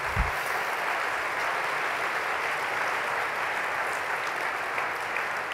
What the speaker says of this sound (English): I'm going to get you to clap again.